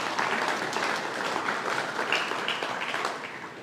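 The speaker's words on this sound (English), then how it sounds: "I think those folks deserve a round of applause too" Audience applause at a woodworking competition in New England, a sustained even patter of many hands clapping in a room, tapering slightly at the end.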